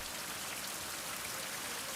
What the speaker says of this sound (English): Yes, it rains here a lot.